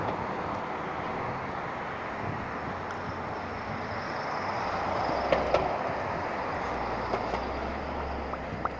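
A train rumbles past near a street, a broad, steady roar mixed with wind buffeting the microphone, with a few faint clicks and rattles on top.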